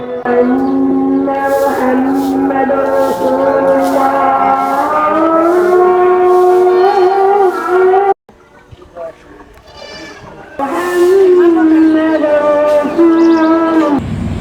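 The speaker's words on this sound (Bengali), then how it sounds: "শুনুন সেই গ্রামের মসজিদের আজানের আওয়াজ" Asr call to prayer from a village mosque in rural Bangladesh, a loud sustained melodic chanted voice through a loudspeaker, broken by a short pause before resuming.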